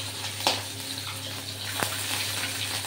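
Onions browned with a cumin tempering get stirred in a pan with cumin, ginger and chili pastes, giving a steady soft sizzle with a couple of sharp clinks and scrapes from the spoon.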